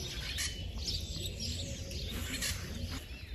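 A young racing pigeon coos and chirps while being held in the hand, several short soft calls close up over low handling noise.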